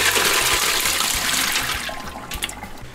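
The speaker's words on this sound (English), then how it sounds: "once you've washed all your figs, you want to start cutting the stem off" Figs being washed in water for old-fashioned fig preserves: a steady, close rush and splash of running water that fades slightly toward the end, with no talking.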